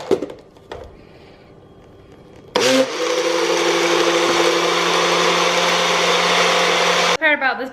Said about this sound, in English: We're gonna get this blending up.